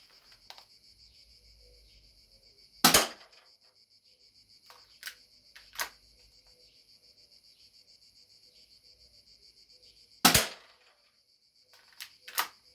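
Spring-powered Browning 1911 airsoft pistol firing single shots at a target about six metres away: a few sharp, isolated cracks spaced seconds apart, over a steady chirping of crickets in the background.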